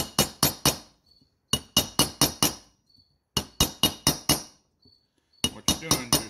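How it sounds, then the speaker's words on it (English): Sharp metallic hammer blows knock down the aluminum around a loose valve seat in a Briggs & Stratton engine head, struck in quick bursts of four or five evenly spaced hits with short pauses between. "What you're doing is you're smashing that aluminum back down to hold that valve seat in place."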